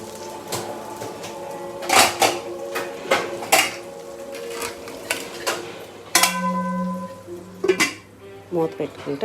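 Metal kitchenware clatters and clinks while egg mulakkada pulusu cooks, with a series of sharp knocks and rattles ending in the lid being set onto the cooking pot, followed by a brief hum and a few more light taps.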